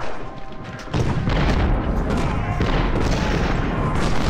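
Artillery booms in the Ultimate General First Bull Run video game, a dense rolling barrage of heavy thuds and cracks that swells loud after a quieter opening and keeps rumbling without pause.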